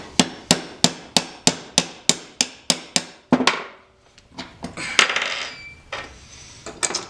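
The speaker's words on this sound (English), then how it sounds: "using the nylon side of my mallet" The nylon face of a mallet strikes parts during reassembly of a LAR Grizzly Mark I pistol: about a dozen crisp, evenly paced taps, then a few irregular knocks and clatter, close and moderately loud.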